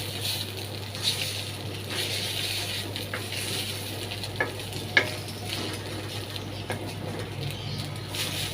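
An egg frying in a pan during khichuri cooking, a steady soft sizzle and crackle throughout with a few brief clinks of utensils, no talking.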